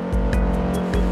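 An all-wheel-drive SUV in the CDID driving game crawling off-road, its engine a steady low droning rumble with a few repeated heavier thumps as the wheels hit rough ground.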